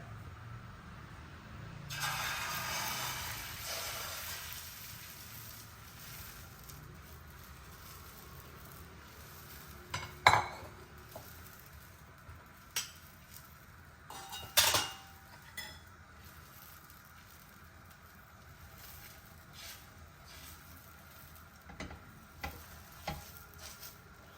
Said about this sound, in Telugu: పెనం వేడైపోయింది మనం రెడీ చేసుకున్నాం కదా మసాలా ఆమ్లెట్ కోసం మిక్స్ ఇంకా దాన్ని డైరెక్ట్గా వేసేస్తున్నాను